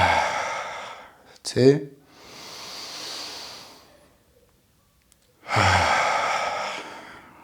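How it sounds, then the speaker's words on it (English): Deep breathing during a yoga stretch in a downward dog hip extension exercise: a long slow exhale and a later strong breath, separated by near silence, with a brief word spoken in between. "Push your hands into the ground either side, and we're gonna take 3 breaths here."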